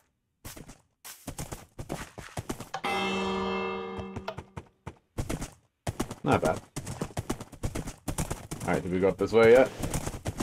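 A horse's hooves clip-clop in steady, evenly spaced steps in a Minecraft Bedrock Frozen II map. The hoofbeats run alongside someone talking, with a brief swell of music partway through.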